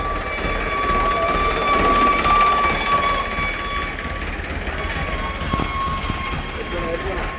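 An HMT tractor engine drives past at a tractor rally with hundreds of tractors, a steady mechanical drone that builds, peaks midway and then eases off as it passes.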